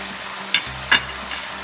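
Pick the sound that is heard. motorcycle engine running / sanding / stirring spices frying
stirring spices frying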